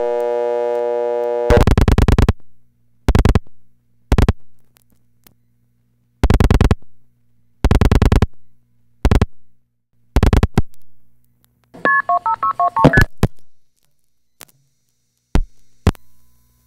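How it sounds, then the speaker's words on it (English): Telephone dial equipment with an MF sender: a steady dial tone cuts out, followed by a series of sharp, evenly spaced multifrequency tone bursts and a brief warbling cluster, loud and close, with no voices. "the dial tones cut out as soon as the first digit starts pulsing"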